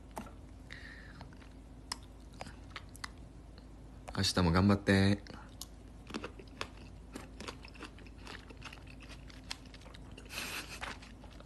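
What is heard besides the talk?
crunchy chewing of cucumber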